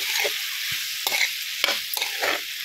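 Potatoes and cauliflower frying in oil give a steady close sizzle, with several sharp scrapes and clatters from stirring over the hiss and no talking.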